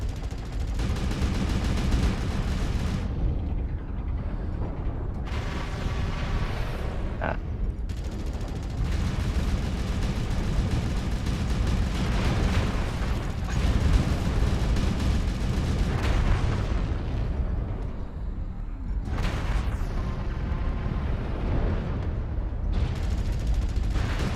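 Airstrike explosions in MechWarrior Online, heard at moderate level: repeated booms and crackling blasts over a sustained battle din, with short quieter gaps between the heavy volleys.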